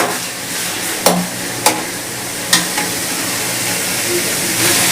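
Onions and tomatoes frying in oil, a steady broadband sizzle heard close up, broken by a few sharp utensil taps against the pan.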